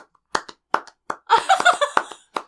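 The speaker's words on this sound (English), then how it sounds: "You really gotta clap loud." Several sharp hand claps, a few spaced single claps and then a quicker run of claps close to a poor-quality microphone, loud and alone with no talk.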